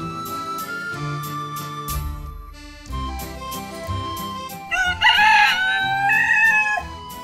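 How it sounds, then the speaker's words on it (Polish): A rooster crows loudly once, a drawn-out call rising over background music with a steady beat and melody. "Kogut znowu zapiał"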